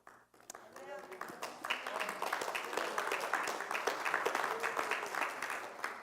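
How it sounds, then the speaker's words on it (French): An audience at a church anniversary gathering applauds a preacher, sustained, crowded clapping that builds after a brief start and carries on, with voices heard through it. "Et je vous remercie de m'applaudir."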